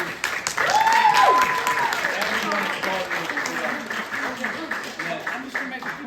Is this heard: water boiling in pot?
no